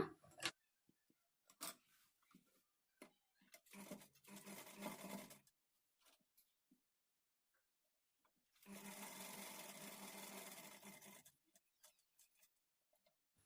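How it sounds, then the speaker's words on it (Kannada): A sewing machine stitching a fall onto a saree edge runs in two bursts, a shorter one and then a longer steady whir, with quiet handling clicks between them. "ಈ ಕಡೆ ಎಡ್ಜಿಂದ ನಾವು ಸ್ಟಿಚ್ ಮಾಡ್ಕೊಳ್ತಾ ಬರೋಣ"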